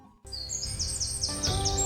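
High bird chirps and tweets in a repeated run of rising and falling notes, fairly loud over a steady background, meant as a crow and a parrot calling.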